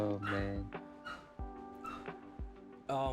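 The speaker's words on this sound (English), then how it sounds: "the dog's barking" A dog barks and yips several times in quick, uneven bursts, fairly close and moderately loud, mixed with some whimpering between the barks.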